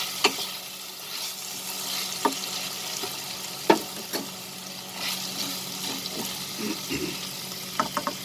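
Boiled mutton pieces tossed into a hot pan for ghugni, giving a steady soft sizzle with scattered clinks and stirring scrapes, fairly close and moderate in level, no talking.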